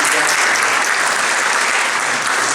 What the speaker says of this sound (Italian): un piccolo applauso.